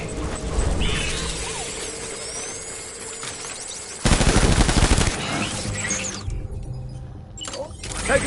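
Video game gunfire sounds in sustained bursts of loud, rapid shots with a dense, harsh wash that peaks in a heavy volley midway, then carries on under lighter clatter and mechanical noise.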